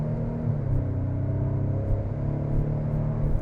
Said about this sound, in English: Getting out onto the highway, just hitting the accelerator.